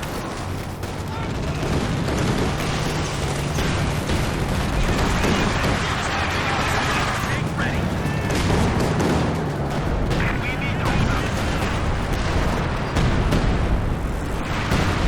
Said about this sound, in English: a lot of arty